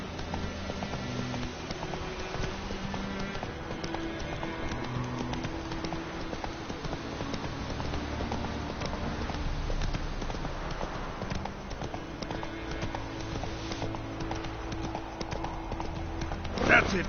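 Hooves of the horse Roach clip-clop steadily through a video game scene, a rhythmic trot-like patter heard under continuous game music and ambient sound.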